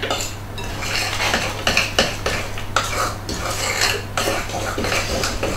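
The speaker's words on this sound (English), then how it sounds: "you probably want to mix it with a bigger spoon" A spoon mixing food colouring into cupcake frosting in a bowl, with rapid, repeated scraping and clinking strokes, close and steady, over a low constant hum.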